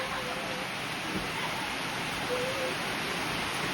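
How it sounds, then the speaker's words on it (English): Heavy rain pours down in a steady, dense hiss of broadband noise that fills the whole clip, loud and close, with no speech over it. "Oh, that is a lot of rain."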